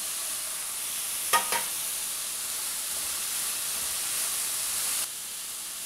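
Ginger and capsicum fry in a pan with a steady, bright sizzle, broken by a couple of quick stirring clicks near the start and a slight drop in hiss toward the end.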